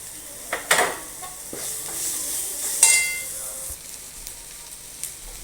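Ginger, garlic and onion frying in a pan for mutton chukka, a loud continuous sizzle with a few sharp stirring clanks early on and again near the middle.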